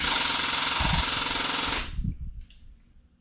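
A pneumatic grease gun blasts against a brass resonator guitar cover plate with a loud, sustained hissing rush that cuts off abruptly after almost two seconds, followed by a few dull low thumps and knocks that die away.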